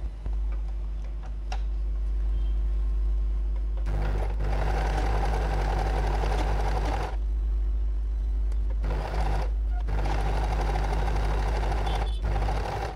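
A sewing machine stitches along the edge of blouse fabric with a steady mechanical whir and fast ticking. It runs close and loud, with brief pauses near 4, 7, 9.5 and 12 seconds, and no talking.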